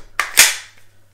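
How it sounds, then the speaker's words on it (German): A pistol slide snaps forward during a speed reload: two sharp, close metallic clacks a fraction of a second apart, loud and near, with a faint low hum beneath. "Schlitten nach vorne."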